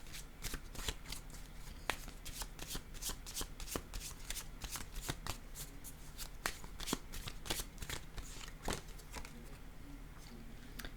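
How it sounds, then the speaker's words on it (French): A deck of oracle cards being shuffled by hand, rapid repeated riffling flicks and taps continuing steadily, close and fairly quiet. "Je vais choisir une carte, un message de l'univers."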